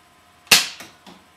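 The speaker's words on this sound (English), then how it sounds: "this shoots almost as far as the long shot" A foam-dart Nerf blaster fires with a single sharp snap, followed by two quieter clicks, heard close and alone without talk.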